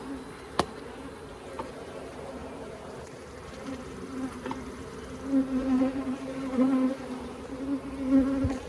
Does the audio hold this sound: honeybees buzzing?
yes